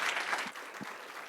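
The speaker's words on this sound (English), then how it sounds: "let's give a giant round of applause to all the panelists and all the sponsors" An audience at a men's panel event applauds the panelists and sponsors, a short burst of dense, steady clapping from a crowd filling the room.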